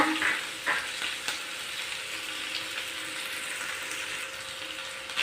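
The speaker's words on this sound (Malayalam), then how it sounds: "ഇത്രയും ചേർത്ത് നന്നായി വഴറ്റിയെടുക്കാം" Green chillies, ginger, garlic and curry leaves sautéing in hot oil for beef pickle, a steady close sizzle with a few stirring scrapes and small pops, no speech.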